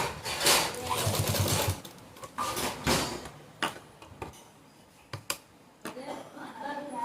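A sewing machine stitches a small ghagra skirt for a Laddu Gopal doll dress, giving close rapid stitching bursts early on, followed by scattered clicks and handling knocks with pauses between.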